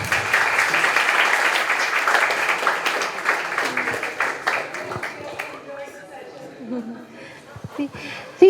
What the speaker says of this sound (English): So a big round of applause for ma'am.